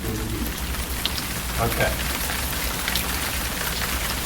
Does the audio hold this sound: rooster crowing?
no